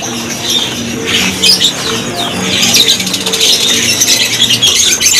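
Many caged SRDC birds at a bird market kiosk chirp and tweet in a dense, continuous chorus, loud and close, with some cooing and wing flutters mixed in.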